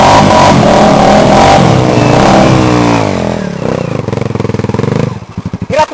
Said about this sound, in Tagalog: motor din ni Andy yun eh